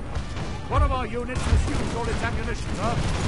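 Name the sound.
musket gunfire of light infantry in Napoleon: Total War video game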